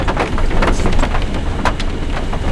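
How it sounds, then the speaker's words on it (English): Heavy rain falls steadily and loudly on the trail, a dense hiss of close spattering drops with sharper individual hits scattered throughout, with no voices. "it had been raining like this, but nowhere near the same severity"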